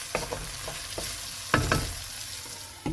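Tomato chutney with rock salt mixed in a hot pan, a steady sizzle broken by several distinct spoon scrapes and clacks against the metal, close and fairly loud, no voices.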